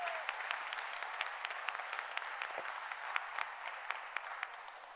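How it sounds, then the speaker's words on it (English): Applause for U.S. Senator Dick Durbin at a food depository celebration, a crowd clapping steadily with sharp individual claps standing out, moderate and sustained for five seconds. "Let's give him a round of applause."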